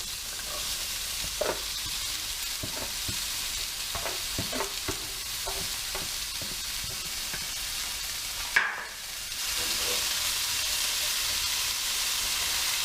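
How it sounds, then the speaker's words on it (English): Carrots, green beans and corn for fried rice sizzle steadily in a pan, with scattered stirring clicks and scrapes, a sharp clatter near the middle, then a louder hissing fry afterward, no voices. "So now that the carrots are slowly cooking, I'm going to add my green beans and corn."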